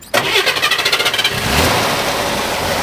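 A Chevrolet Corvair Corsa 140 engine with stock exhaust cranks with a rapid rhythmic starter chug, then catches and settles into a loud, steady idle close by.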